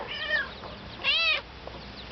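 A cat meows twice in a barnyard setting, the calls close and fairly loud, separated by a brief quiet gap with faint background noise.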